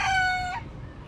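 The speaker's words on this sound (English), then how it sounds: "Isn't it so cute? It's such a tiny crow." A short, high-pitched rooster crow, thin and brief like a young bird's, heard close with faint background noise after it.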